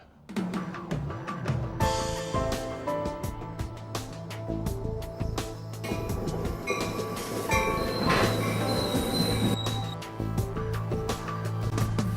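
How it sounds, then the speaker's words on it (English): A commuter train runs along a rail line into the city, with close, loud rolling rumble, metallic squeals and ringing wheel tones, and rhythmic clatter that keeps going with no break. "This is the same train line my father took for nearly 30 years into the city"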